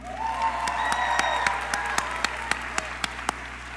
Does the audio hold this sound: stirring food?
no